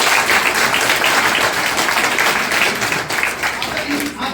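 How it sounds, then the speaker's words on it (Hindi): A gathered audience of students and villagers breaks into loud, sustained clapping honoring a young man's NDA SSB selection, a dense wash of hands that stays strong the whole time with voices murmuring underneath. "एक बार जोरदार ताली बजाओ।"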